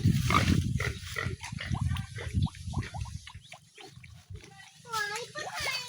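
Pigs at feeding time, close grunts and wet splashing feed noises under the talk of an adult and a child, with short snorts scattered through.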